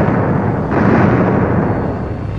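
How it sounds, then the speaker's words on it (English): High explosives detonate in Korean War archival footage: a loud, dense rumbling roar of blasts that holds steady throughout with a slight surge partway, heard alone. "Traditional high explosives powered the U.S. war machine in its relentless assault against North Korea"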